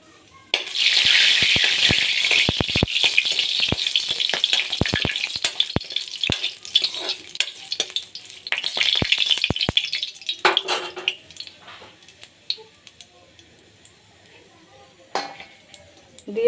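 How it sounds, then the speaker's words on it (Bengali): A dried red chili and two small bay leaves dropped into hot oil burst into a loud, close, hissing sizzle with crackles. It fades after about ten seconds, leaving faint pops and utensil clinks. "তো তেলের মধ্যে দিয়ে দিচ্ছি আমি একটা শুকনো লঙ্কা আর দুইটা তেজপাতা ছোটো ছোটো দিয়ে দিলাম"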